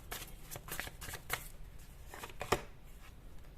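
Tarot cards are shuffled and drawn in a series of quick riffling bursts and sharp slaps, close up and crisp, with short pauses between bursts and no voice over them.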